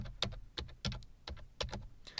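Quick, close keystrokes on a computer keyboard tap out about ten soft, irregular clicks over a couple of seconds, with nobody speaking.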